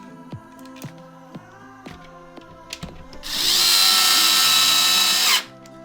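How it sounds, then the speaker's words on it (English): Cordless power screwdriver driving two screws back into an Xbox One X top cover, preceded by light clicks and handling of plastic parts, then one loud, steady whirring burst of about two seconds, close up. "all you have to do is put these two screws back in"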